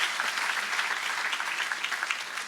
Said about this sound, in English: let's give them a round of applause for their great leadership